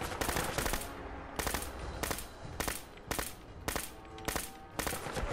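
Repeated bursts of Glock pistol fire in a modded Fallout 4 game, eight or nine sharp shot clusters spaced evenly across several seconds, loud and clear with no talking.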